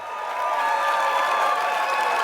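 A dense wash of audience applause, steady and sustained, with faint crowd voices mixed in and building slightly at the start.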